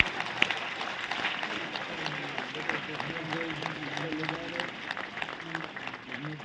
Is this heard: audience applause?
yes